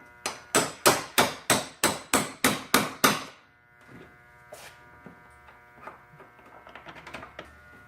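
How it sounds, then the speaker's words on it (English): Ten rapid, evenly spaced hammer blows ring out on a metal punch driving a bolt free during a Mazda 6 grille install, loud and close, then a few softer scattered taps over a low hum. "I got a punch and a hammer. I'm about to just tap it out."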